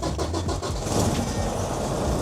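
A truck engine cranks and catches, then settles into a steady loud running rumble to build air pressure for the brake system, sounding close and with no talk.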